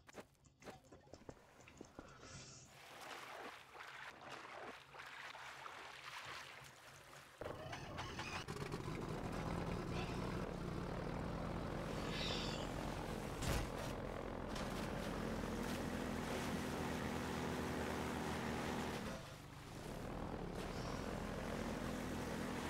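Helicopter gunship from the Half-Life 2 video game, a steady loud rotor and engine drone that swells in after a quieter start and holds close and continuous, with a brief dip near the end.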